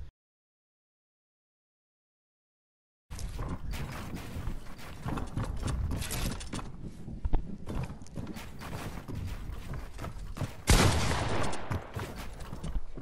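Video game gunfire in a Fortnite 1v1 zone wars match, dense rapid shots and clattering bursts after a silent opening, sustained and loud with a sharp flurry near the end.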